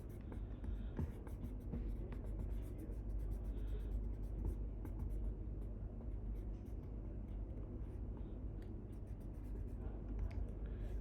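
A pen scratches steadily as a maths formula is written out, a continuous soft scraping under a low background hum, close and fairly faint.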